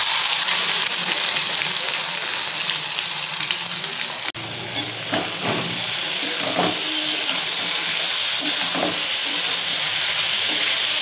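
Marinated boneless mutton is dropped into hot oil seasoned with cinnamon. A sudden, loud, close sizzle starts and stays as a dense hiss, broken by occasional stirring scrapes.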